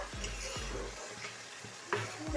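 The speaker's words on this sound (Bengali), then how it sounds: "দেখুন আমাদের ভাজা হচ্ছে পেঁয়াজটা" Onions frying in a cooking pot while making a village-style khichuri, with a steady soft sizzle and intermittent scraping stirs, heard close up and alone.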